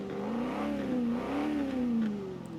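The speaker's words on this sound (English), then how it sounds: "So like around there, it's got a really nice V8 rumble to it." BMW M3 GTS V8 engine in Forza Horizon 4 revving through the gears, a loud, close engine tone rising and falling in pitch several times with steady rumble underneath.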